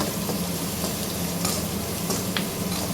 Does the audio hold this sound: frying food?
yes